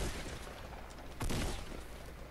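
A Fortnite Battle Royale shotgun fires once mid-match, a single sharp nearby blast breaking through steady low game ambience.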